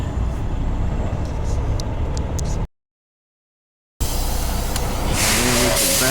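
A semi truck engine runs loud and steady as the rig backs into a trailer, with a brief dropout partway through before the rumble returns.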